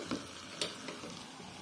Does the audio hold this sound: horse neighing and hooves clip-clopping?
no